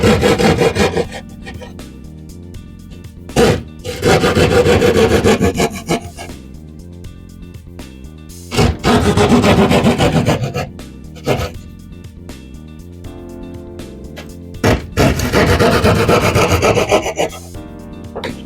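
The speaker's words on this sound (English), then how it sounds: "to cut it out, I'm just going to use a hand drywall saw" A hand drywall saw cuts through drywall in short, rough rasping strokes, several bursts of back-and-forth scraping separated by brief pauses, close and loud.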